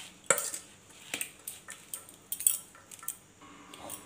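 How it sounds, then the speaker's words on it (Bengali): A spoon stirs salt into a semolina filling in a bowl, giving a string of light scraping clinks at an uneven rhythm. The sound is close and fairly quiet, with no talk. "নুন দিয়ে খুব ভালো করে মিশিয়ে নেব।"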